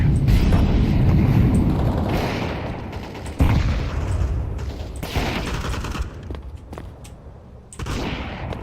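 Grenades and incendiaries going off in the game CS:GO, a dense, continuous rumble of blasts and gunfire with several sharp explosive onsets throughout.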